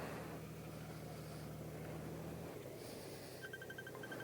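A phone rings with an incoming call, a short run of quick, evenly spaced electronic chirps that starts suddenly near the end over a low steady hum, faint and close by.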